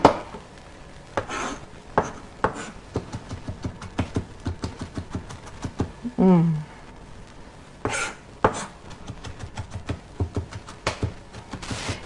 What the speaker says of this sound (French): On va la hacher.